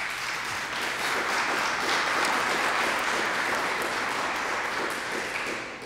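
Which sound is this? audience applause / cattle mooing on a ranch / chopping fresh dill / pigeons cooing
audience applause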